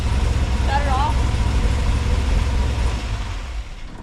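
A 1968 Chevrolet Suburban's engine idles with a low, steady rumble that fades slightly toward the end, while someone speaks briefly over it.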